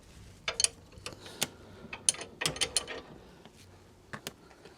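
A new bolt being screwed down on a 2024 VW Crafter seat swivel, heard as a close series of sharp metallic ratcheting clicks and ticks in irregular bursts, then a few lighter clicks near the end.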